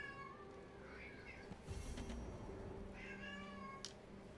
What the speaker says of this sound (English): Yeah, kitty, I hear you.